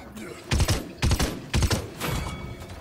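Three loud, evenly spaced bursts of video-game gunfire, each a short rattling volley about half a second apart, as a player is shot from behind.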